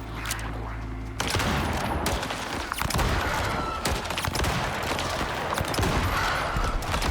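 Gunfire in the survival video game Icarus, a dense burst of rapid shots that keeps going across the whole stretch, loud and close, with voices talking faintly underneath.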